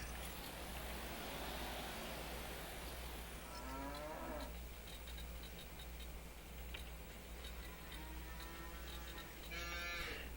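Cattle moo in Farming Simulator 25 on a small farm, two drawn-out lowing calls heard over a steady low machine hum and faint ticking, with no talk.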